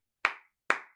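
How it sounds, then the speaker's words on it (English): Two sharp, close hand claps ring out about half a second apart against silence. "I'd say bravo as I clap"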